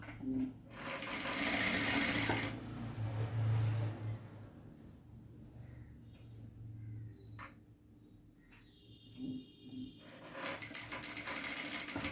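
A sewing machine stitches a work blouse in close bursts: a loud rapid run at the start, slower intermittent stitching and faint clicks as the fabric is adjusted, then another fast run at the end.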